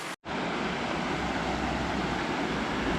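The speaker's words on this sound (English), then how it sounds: "This is part of the waterfall noise that I'm hearing from camp" A waterfall and a large spring at Fort Richardson State Park, running with high water, give off a steady, dense rushing roar heard from a nearby campsite, continuous after a brief dropout at the start.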